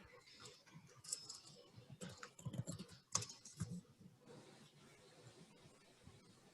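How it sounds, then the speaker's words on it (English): Typing on a computer keyboard, irregular clusters of soft key clicks with a few sharper taps, quiet and close in a calm room, fading to near silence near the end. "I was flipping back between typing in the links and looking at the chat."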